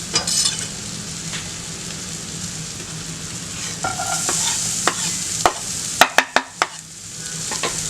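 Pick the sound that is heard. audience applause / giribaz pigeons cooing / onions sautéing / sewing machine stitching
onions sautéing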